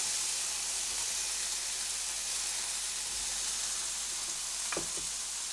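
Tomatoes sizzle steadily in heated oil in a frying pan, a continuous close hiss that holds evenly throughout with a brief clink of utensil near the end.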